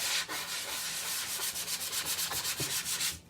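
Hand sanding of a stenciled wood sign, steady repeated abrasive strokes rasping back and forth in a quick rhythm, close and fairly loud with no talking.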